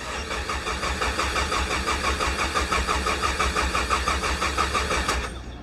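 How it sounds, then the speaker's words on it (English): A Nissan Sentra engine with the coils disconnected cranks over on the starter to prime oil, a loud, steady rhythmic whirring chug that runs for several seconds without firing and then cuts off. "You just want to crank over a few times to let oil go to the top"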